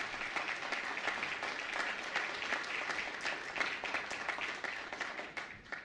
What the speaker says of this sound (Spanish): También el aplauso para él también.